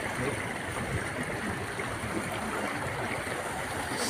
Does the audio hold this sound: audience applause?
no